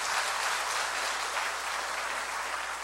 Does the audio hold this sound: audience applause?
yes